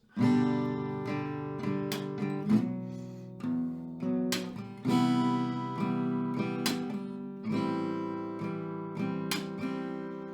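An acoustic guitar strums a full chord progression from a song, played close and clear as full downstrokes. The chords change every few seconds with ringing sustain.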